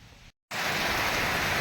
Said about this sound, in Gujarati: હજી સાટા જો આવતા જાય છે ધીરે ધીરે